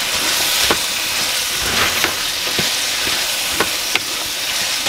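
Mixed vegetables (potato, carrot, spinach, tomato and green chili) fry in a hot pan in a village-style kitchen, giving a loud, steady, close sizzle with occasional soft knocks of stirring.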